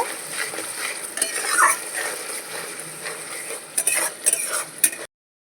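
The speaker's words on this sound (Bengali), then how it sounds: "ফেটিয়ে রাখা টক দই ভালো করে সব মশলার সাথে মিশিয়ে নেব" A spoon scrapes and clinks in a pan, stirring whipped sour yogurt into ground spices and cashew paste for doi katla. The stirring is faint and uneven, comes in short bursts with soft knocks against the pan, and ends abruptly.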